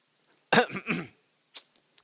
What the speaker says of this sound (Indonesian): Kok jadi batuk gak gatel ya?